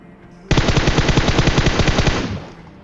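Sustained automatic gunfire from a battle royale video game, a rapid unbroken burst of loud shots lasting about two seconds before cutting off, with no talk over it.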